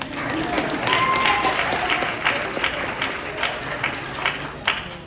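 A crowd at a leadership conference in Times Square, New York, breaks into applause: a dense wash of many hands clapping, moderately loud, with some scattered crowd noise beneath.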